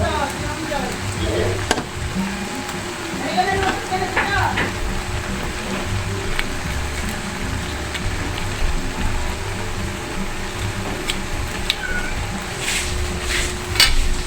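Butter garlic shrimp crackle and hiss continuously in a hot pan while being flipped, with occasional clinks of a utensil, and a person talks over the cooking.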